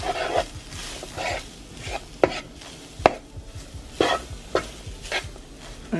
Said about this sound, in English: And we're going to mix this taco season around.